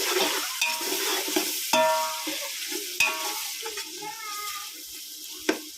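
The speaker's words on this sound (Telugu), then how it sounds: "ఇప్పుడు ఒకసారి కూరని అంతా కలుపుకున్నాం" Mutton curry with turmeric being stirred in a pan, a close spoon scraping and clinking through the thick mixture in irregular strokes, with a soft sizzle underneath and a few sharper metallic knocks.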